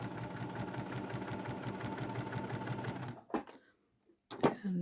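A sewing machine runs a fast, steady stitching burst while foundation piecing a quilt block, rhythmic and close, then stops abruptly and is followed by a couple of short handling clicks.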